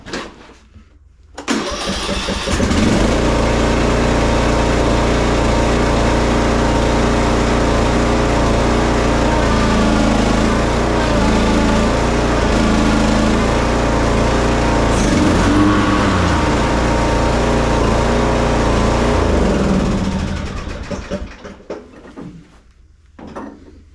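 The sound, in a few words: zero turn lawn mower engine running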